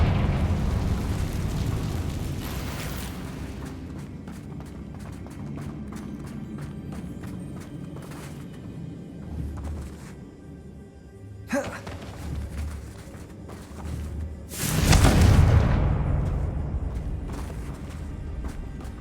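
Fiery Confringo spell blasts in Hogwarts Legacy on Xbox Series X, heard as booming game explosions around 11.5 and 15 seconds over a busy rumbling background.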